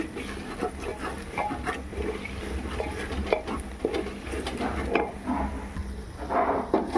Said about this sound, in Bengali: জিরে গুঁড়ো এবার আমি ভালো করে এটা কষিয়ে নেব